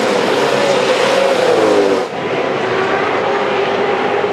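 Race cars roar along the street circuit at the 2006 Clipsal 500 V8 Supercars race in a loud, continuous wash of engine noise, with a rising and falling engine whine and a brief dip midway.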